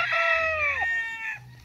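A hoarse crow from a fighting rooster at a gamecock farm: one long, strained cock-a-doodle-doo with a falling break near the end, loud and close, with no voices over it.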